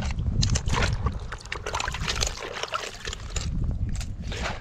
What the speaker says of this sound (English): all we do with that is just give it a couple of dunks